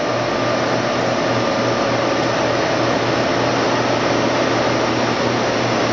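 A Blanchard #26HD-48 48-inch vertical spindle rotary surface grinder runs with its table rotating, producing a loud, steady broadband roar and hum that stays constant throughout, close and without talk.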